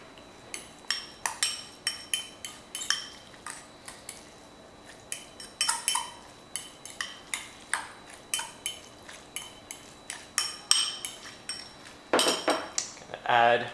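Food is mixed in a bowl with metal utensils, producing a steady run of rhythmic scraping clinks and taps that grows busier and louder near the end, close by and without talking.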